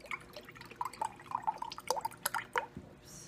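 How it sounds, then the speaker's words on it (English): Coconut milk, about half a cup, pours into a container for chia pudding, giving a close run of soft wet drips and trickles with irregular small splashes for a few seconds. "I would usually put about half a cup"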